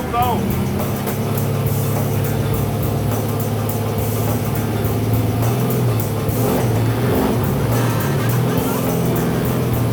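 Continuous loud engine drone and revving from a race car built by Richard Childress, heard up close and steady throughout with rising and falling pitch, while someone speaks over it.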